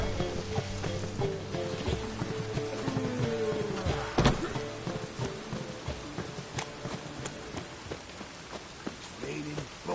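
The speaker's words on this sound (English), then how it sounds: "Raining buckets." Heavy rain pours steadily in The Witcher 3 video game, dense patter with scattered sharp thunks and a low rumble underneath, continuous throughout.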